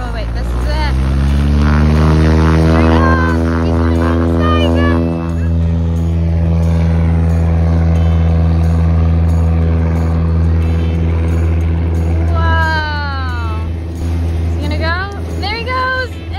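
A seaplane engine drones steadily and loudly on the water at a beach, a strong tonal hum with harmonics running throughout; children's and adults' voices chatter over it.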